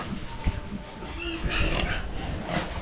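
A pig on a small Filipino farm, a sow close to farrowing, gives low grunts at close range, mixed with scattered outdoor farmyard noise.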